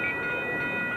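A southbound FrontRunner commuter train at King Street in Layton, Utah, with cab car 118 leading, passes close and loud as a steady roar with a high tonal whine, no talk.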